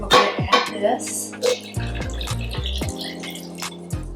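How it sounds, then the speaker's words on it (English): Half a cup of water poured into a patio cocktail mixture, giving a short splashing, dripping pour with a few clinks nearby, over steady low background hum. "And then 1/2 cup of water."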